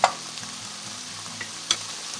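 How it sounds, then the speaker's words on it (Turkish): Onions sizzle steadily in a pan, punctuated by a couple of sharp clinks and scrapes from stirring. "bu şekilde ara ara karıştırarak bir 5 dakika daha kavuracağım"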